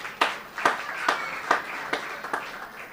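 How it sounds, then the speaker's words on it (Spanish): A church congregation on Bonaire claps for the sound team during a Sunday service: about seven crisp, evenly spaced claps in a steady beat, fairly faint against a quiet room. "Un aplauso para este grupo de sonido."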